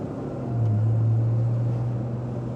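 A rare 1964 Pontiac GTO convertible cruises with the top down on an Arizona morning, its engine a steady low drone with a strong low hum that swells slightly and holds.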